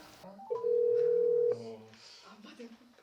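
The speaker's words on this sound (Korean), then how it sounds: "친구에게 전화를 걸어보겠습니다" A phone call is placed and a steady tone sounds, starting about half a second in and lasting about one second, loud and clear. Brief speech comes before and after it.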